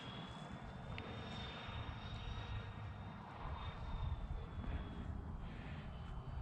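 Freewing F-14 RC jet with twin 80mm electric ducted fans and afterburner flying overhead, a steady, whooshing fan roar with a thin high whine that holds at moderate distance for several seconds, no voices.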